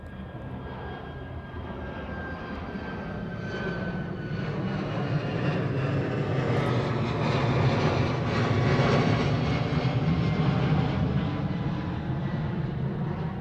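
A jet airliner taxis toward the reef runway at Honolulu airport, its engines a steady, loud roar that swells gradually toward the middle and holds without any voices.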